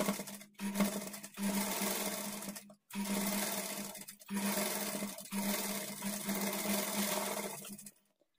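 A sewing machine edge-stitches the folded lining of a blouse, running in several steady bursts of a few seconds each, separated by brief stops, close and loud with no talking.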